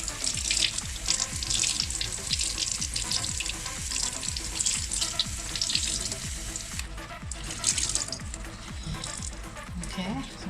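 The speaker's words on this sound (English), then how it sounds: "I'm just going to rinse it until you can see the colour coming out of the water" Tie-dyed fabric rinsed under a running tap, water splashing and hissing steadily with irregular sloshing and handling clicks, close and fairly loud, softening slightly toward the end.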